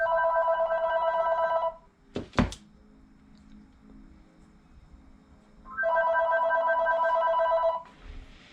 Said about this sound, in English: And of course we get a phone call in the middle of things.